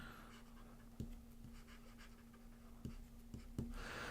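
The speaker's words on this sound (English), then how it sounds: "So I'm going to go ahead and write something here." A stylus writing on a Boox Go 10.3 e-ink screen, faint scratchy strokes with a few sharp taps scattered through, close but quiet under a steady electrical hum.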